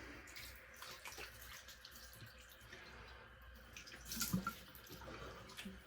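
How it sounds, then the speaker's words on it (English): Cold well water running for a face rinse, a faint trickling flow with small splashes and drips that swell briefly near the end. "Now we're going to do a cold water rinse."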